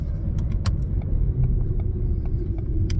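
A new Ford Fiesta driving, a steady low road and engine rumble from inside the cabin with a few faint clicks and jingles over it.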